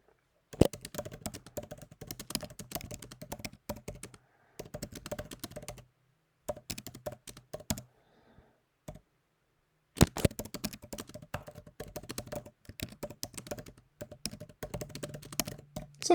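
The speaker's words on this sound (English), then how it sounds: "So I type something like this in for the user." Typing on a computer keyboard during software content entry, with bursts of rapid clicking keystrokes separated by short pauses, close and moderately loud with no talking.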